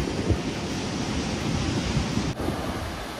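Strong wind and crashing waves on the rocky shore at Shek O, Hong Kong, a dense continuous roar of surf and gusting wind buffeting the microphone, with no voices.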